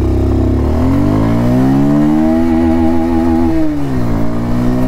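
A 2024 Bajaj Pulsar 150 Twin Disc motorcycle revs up hard in first gear, its engine note climbing steadily in pitch, then dropping briefly as the revs fall and pick up again, loud and close.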